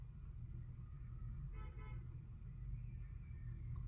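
Car horn outside, one short honk partway through, over a steady hum of traffic.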